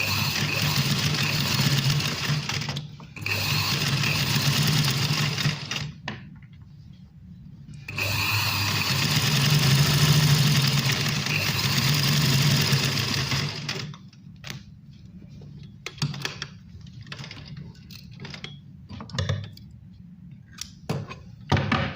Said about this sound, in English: See, this is the stitching.